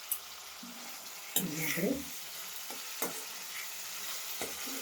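Chopped onions and tomatoes fry in oil for a Gujarati garlic-fenugreek dish, giving a soft steady sizzle broken by a few scrapes and knocks of stirring, while a voice speaks briefly.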